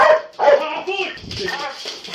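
Police dog barking and whimpering close by, a run of sharp yips and whines in quick succession during a police operation at a house, with voices mixed in.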